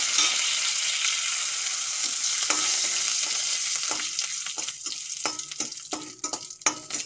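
Dried red chillies and curry leaves spluttering in hot mustard oil, a bright sizzle that steadily gives way to sharp, irregular pops and crackles.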